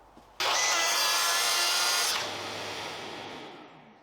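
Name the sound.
Festool TSV 60 track saw cutting black-coated plywood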